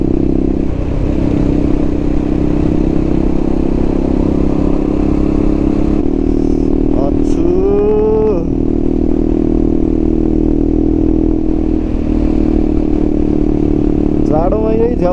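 A KTM 250 motorcycle rides an empty road in the early morning, its engine drone steady and loud with heavy wind rumble. A short pitch sweep midway suggests a rev or passing vehicle.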